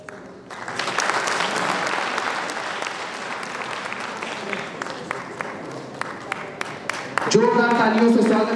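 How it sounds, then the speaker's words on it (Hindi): At a street-vendor cleanliness award ceremony in Varanasi, a seated crowd breaks into sustained, dense applause that tapers to scattered claps, with a voice over a loudspeaker resuming at the end. "अरविंद मौर्य जी का भी जोरदार तालियों से स्वागत, अभिनंदन"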